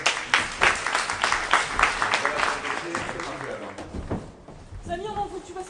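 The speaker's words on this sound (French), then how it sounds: "On va l'applaudir." Applause from an audience at a market stall event, a dense run of clapping that starts loud and gradually thins out over several seconds before fading under other sounds.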